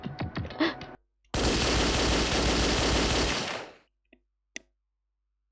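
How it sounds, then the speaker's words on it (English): Machine gun mounted on a surveillance camera in the video game Danganronpa Another lets loose a loud, dense burst of rapid automatic fire lasting about two and a half seconds, with a few sharp clicks trailing off afterward. "The surveillance camera. It has a machine gun attached."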